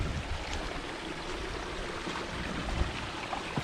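Water rushes strongly through a drainage ditch in a steady, close, broadband wash with no voices, its turbulent flow constant from start to finish.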